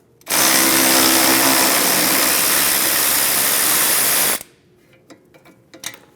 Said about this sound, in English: we'll use a 16mm socket and remove the nut